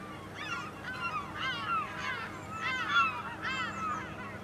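Seagulls in Farming Simulator 25 call in repeated rising, honking cries, four or five fairly distinct bursts over a steady low background drone, moderately near and with no talk.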